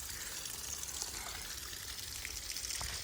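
Well water being poured out, a faint, steady splashing gush of liquid lasting the whole brief moment.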